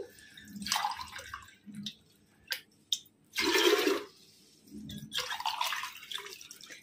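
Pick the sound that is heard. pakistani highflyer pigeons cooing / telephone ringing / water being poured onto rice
water being poured onto rice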